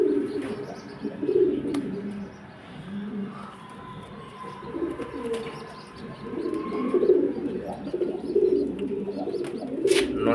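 Racing pigeons of a long-distance Kolkata line coo softly and repeatedly in a loft, with low throaty calls and occasional faint chirps over a quiet background.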